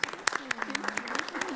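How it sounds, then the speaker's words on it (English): Audience at a city council meeting in West Sacramento applauding: scattered, moderately quiet hand claps in an indoor chamber, with a voice and a tonal sound running underneath. "So we applaud you and thank you so much for all that you're"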